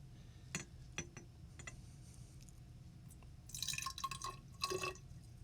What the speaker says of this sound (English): I'm going to pour the acid.